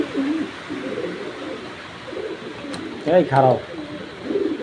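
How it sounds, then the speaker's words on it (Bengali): A male racing pigeon coos in a loft, with throaty rolling coos rising clearly near the end while someone talks over much of it. "অনেকে বলেন যে এই ধরনের কবুতর ডাকে না, আমি ডাক দেখায় দিচ্ছি আপনাদের"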